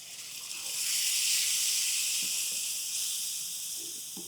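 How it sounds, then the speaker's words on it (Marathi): Milk mixture poured into hot roasted semolina for prasad sheera: a loud, close, continuous steamy hiss swells up within the first second and holds steady, slowly easing off, with no talking over it. "अलवार हे दुधाचं मिश्रण घालायचं आणि रवा छान फुलवून घ्यायचा"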